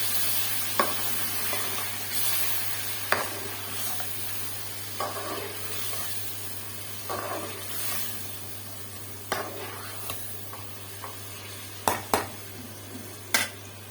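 Ginger, garlic, green chilli and tomato fry in a pan with a steady sizzle. A spoon stirs through it with sparse scrapes and clinks, close by, and a low electrical hum runs underneath.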